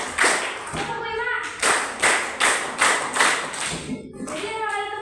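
Sharp hand claps in a counted rhythm exercise in a classroom, several distinct claps spaced in a steady beat, close and fairly loud, with a teacher's voice talking between and over them.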